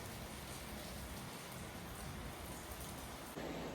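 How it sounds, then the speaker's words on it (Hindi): Heavy rain pours steadily, a dense, even hiss of drops striking surfaces, faint and continuous with no voices. "मूसलाधार बारिश हो रही है बाहर।"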